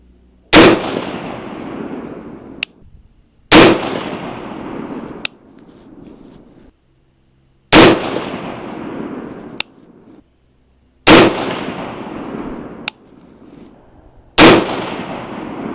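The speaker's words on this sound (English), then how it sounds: "Alright, let's shoot the next group." Rifle shots fired at a target group while testing a Hornady Zip spindle: five loud, sharp reports spaced a few seconds apart, each ringing out with a long decaying echo, and no talk.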